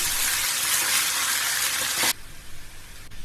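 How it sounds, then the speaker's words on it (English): Cooked rice stirred through in a pan for vegan lemon rice, a steady sizzling scrape for about two seconds before it stops abruptly, leaving only faint quiet clatter. "We'll add our cooked rice. And give that a nice stir through."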